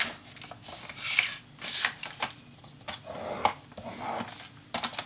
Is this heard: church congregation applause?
no